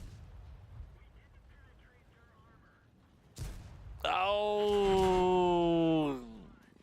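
Tank cannon shots in World of Tanks battle mode: a faint shot early, a sharp blast near the middle, then a loud sustained harmonic roar lasting about two seconds, suggesting successive armor-piercing rounds and impacts.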